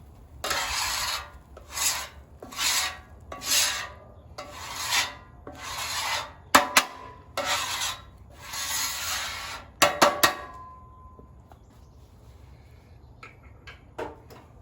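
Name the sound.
scraping down an electric skillet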